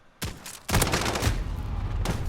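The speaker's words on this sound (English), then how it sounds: "technically it had a flamethrower, but it came in the form of a shotgun" Gunfire from a flamethrower shotgun in Call of Duty Modern Warfare, with one loud blast followed by a sustained roaring burst of rapid fire and another shot near the end, close and loud, with no talking.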